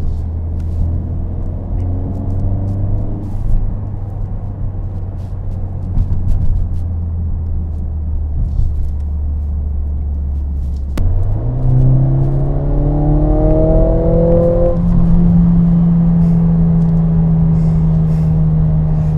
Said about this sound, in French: on entend vraiment bien le moteur là